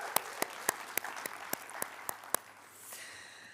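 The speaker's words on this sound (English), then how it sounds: "So please give yourselves a big hand of applause" At a human rights graduation ceremony, a sharp rhythmic clapping of about nine evenly spaced claps rings close, then fades into softer room noise.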